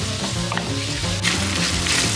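Buckboard bacon frying in a hot pan over a little above medium heat as it is stirred. A steady, close sizzle runs throughout, joined by low music-like tones and soft scraping, and it grows slightly louder in the second half.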